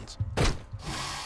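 Explosions in the video game Hyper Light Drifter come as two short, punchy bursts close together, followed by a lingering rumbling wash of noise.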